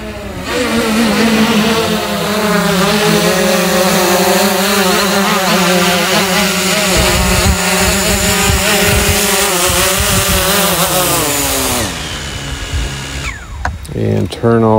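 Hubsan Zino quadcopter drone flying in to land, a loud steady whine of spinning propellers with rising and falling pitch, close and continuous for about twelve seconds before cutting off into quieter handling noises.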